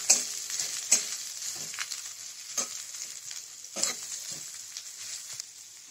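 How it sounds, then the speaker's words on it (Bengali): Chopped onion and grated garlic fry in hot oil in a pan, a steady soft sizzle broken by a few louder crackles and the clatter of stirring, with no voices. "এবার ওই তেলেই আমি কুচি করা পেঁয়াজ দিয়ে দিচ্ছি, একটু রসুন দিয়ে দিচ্ছি"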